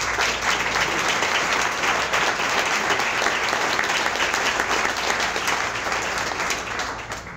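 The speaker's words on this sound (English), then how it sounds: "let everybody give you a round of applause for that." A large crowd applauds steadily at an NWA Touchdown Club speech, dense clapping filling the space at a constant loud level and tapering slightly at the very end.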